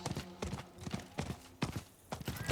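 Hollow clip-clop of horse hooves in Diablo 4, in quick clustered beats, close and moderately loud, with irregular short gaps between strides.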